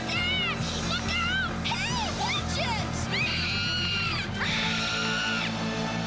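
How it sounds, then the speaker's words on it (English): Repeated high-pitched cartoon screams from a female character in the 1980s Jem animated series, several rising and falling cries over a steady background bed, loud and close. "the scream that Shayna does between the first, like right before the first commercial break"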